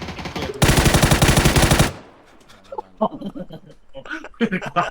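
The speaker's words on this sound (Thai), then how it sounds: "โดนคนยิง" Automatic weapon fire in the battle royale game PUBG, a loud sustained burst lasting over a second, followed by excited chatter and laughter from players.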